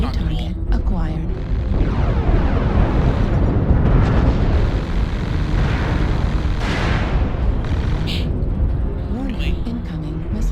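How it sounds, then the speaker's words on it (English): Incoming missile explosions in the Mechwarrior Online video game: a dense, continuous rumbling barrage of booms and bursts that stays loud for the whole stretch, with a voice talking over it. "Incoming missile."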